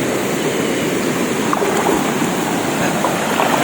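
River water rushing steadily outdoors, a broad continuous wash with a faint wind-like hiss, even and unbroken from start to finish, no talking.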